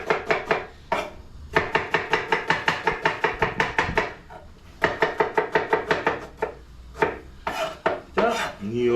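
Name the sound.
chopping onion and garlic with a knife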